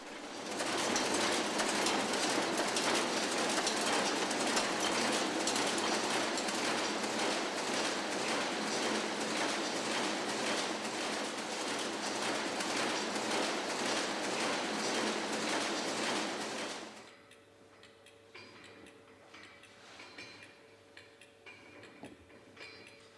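An automated embroidery machine, its fabric on a moving frame driven by a punched-card controller, runs with a dense, loud mechanical clatter for about seventeen seconds, then cuts off, leaving a quiet hum and faint background noise.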